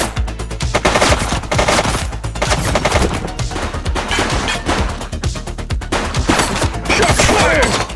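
Dense, continuous gunfire from The Precinct, a police video game on PS5 Pro, with rapid overlapping automatic bursts and sharp shots that stay loud and close throughout, with no pause and no talk.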